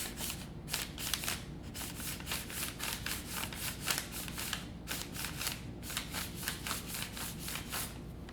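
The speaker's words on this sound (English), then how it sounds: "Even something as simple as paper makes a sound." Continuous rapid rustling and scraping of paper rubbed together, close and fairly loud, in a busy uneven rhythm with brief pauses.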